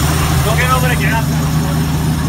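A 1979 Ford F-100 with a 302 V8 idles with a steady low rumble throughout, while someone talks briefly over it near the start.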